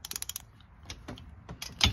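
A ratchet wrench loosens an intake bolt on an 800 hp stroker LS engine, giving quick bursts of close, crisp ratcheting clicks with short pauses between them. No one speaks.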